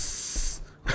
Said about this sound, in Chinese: 他要用那个什么喷雾去喷他